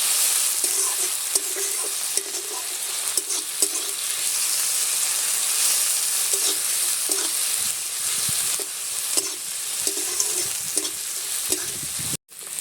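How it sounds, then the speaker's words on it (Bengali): Onion with ginger and garlic paste stir-fried in a pan, a steady loud sizzle broken by repeated scraping strokes of a spatula, with no voices. "আদা বাটা রসুন বাটাটা দিয়ে আমি এভাবে একটুখানি সামান্য নেড়ে চেড়ে নেব"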